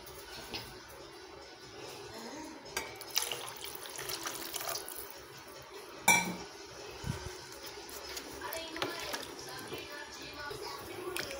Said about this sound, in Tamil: இன்னும் கூட கொஞ்சம் தண்ணி ஊற்றிக்கலாம்